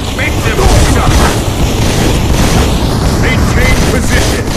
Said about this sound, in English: I want to see some gunshots.